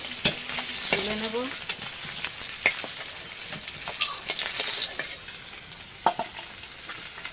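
Fish sizzles and spits in hot oil in a wok, a steady crackling fry close by with scattered sharper pops and a few clinks of a spatula stirring, no voices.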